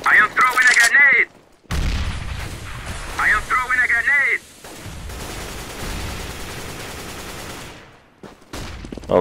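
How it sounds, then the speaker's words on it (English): A grenade is thrown and bursts during online shooter gameplay, heavy booms and gunfire crackling loudly through the clip while players chat over it. "I am throwing a grenade."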